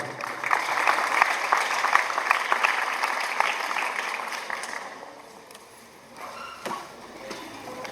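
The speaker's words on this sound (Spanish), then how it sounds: "Fuerte el aplauso." Lecture audience applauds after a talk on local municipal history, a dense steady burst of clapping that fades out after about five seconds, followed by faint room noise and scattered handling sounds.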